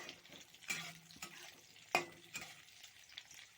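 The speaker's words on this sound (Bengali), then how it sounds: "এবার এতে দিয়ে দিলাম পেঁয়াজ কুচিগুলো ভালো করে ভেজে নিতে হবে।" Chopped onions fry quietly in a pan of oil with whole cumin for a chicken feet curry, a soft sizzle broken by a few sharp stirring clatters of a spoon.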